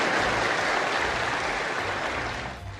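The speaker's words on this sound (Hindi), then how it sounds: "जब उनका भाषण खत्म हुआ तब पूरा सदन तालियों की गड़गड़ाहट से गूंज रहा था" Applause filling a parliament chamber at the close of a speech in Ethiopia's parliament, a dense, steady roar of many hands clapping that holds loud throughout and begins to thin at the very end.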